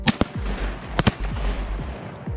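Shotgun blasts fired at a duck during a bird hunt, several sharp, loud reports, two close together near the start and another pair about a second later, each trailing off with an echo through open country.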